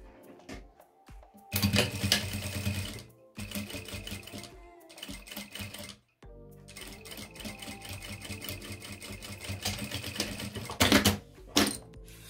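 A sewing machine stitches a Suki wallet in fast, rattling runs that stop briefly and start again, close and fairly loud throughout.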